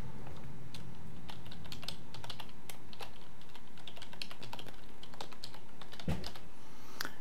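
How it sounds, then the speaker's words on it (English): An email address is typed on a computer keyboard as a quick, close run of clicking keystrokes in an uneven rhythm, with a slightly heavier key press near the end. "now we're going to go ahead and type in our email address we're going to be setting up"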